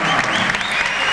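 Sustained applause from a boxing crowd greeting a former world champion at a fight, a dense, even wash of clapping filling the arena without pause.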